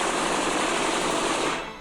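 Continuous rapid gunfire in the Steins;Gate video game, a dense, loud rattling burst lasting nearly two seconds before tapering off.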